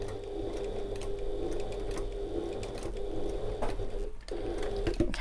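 A sewing machine runs steadily as it stitches an evening bag, a close, even mechanical whirr with a rapid ticking rhythm and a short pause near the end.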